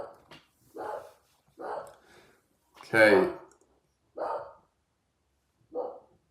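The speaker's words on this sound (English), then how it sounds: "Oh, this bloody dog, bro." A dog barks and woofs in separate short bursts about every second, each one fairly close, with one louder bark in the middle and a brief spoken word near it.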